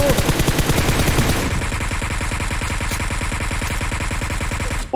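Sustained automatic gunfire sprays from an S2K rifle during a BGMI esports semi-final: rapid, evenly spaced shots repeat loudly and close for the whole stretch, with a denser, heavier burst at the start.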